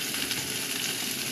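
Chicken fries in a hot cast iron pan for a sweet and sour stir-fry, a dense continuous sizzle that stays loud and close throughout.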